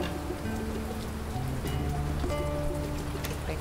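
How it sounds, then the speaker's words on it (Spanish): Steady rain pours down in a video game, a dense, constant hiss of drops on surfaces filling the whole stretch, with soft game tones drifting underneath. "Venga, que está lloviendo."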